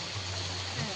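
Palm fruit batter ball dropped into warm oil, giving a steady, close broadband sizzle that holds evenly for a moment.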